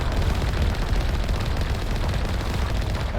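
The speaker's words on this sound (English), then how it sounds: "I have to shoot at his fucking tentacles before he catches up to me." Gunfire in the game Mass Effect Legendary Edition rattles in a loud, dense burst of rapid automatic shots that blur into a continuous roar for a few seconds, with no talking.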